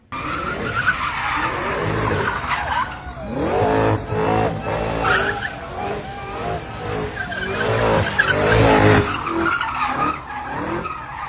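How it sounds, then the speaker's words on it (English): Cadillac CTS-V cars slide and skid at a street takeover. Loud tire squeals rise and fall over roaring, revving engines, with faint crowd voices underneath. "Now they got these daggone Cadillacs swinging them and sliding these Cadillacs."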